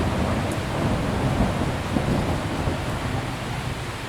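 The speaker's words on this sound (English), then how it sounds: "It's raining heavily, so I have to wait." Heavy rain pours down in a dense, continuous roar, with a low rumble of thunder folded into the steady downpour.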